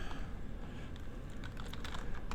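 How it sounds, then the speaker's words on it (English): Keys on a computer keyboard clatter in quick, irregular bursts as a fake LLC name is typed into a search form, soft and close against a low background hum, with no voice. "So let's just type in a fake LLC."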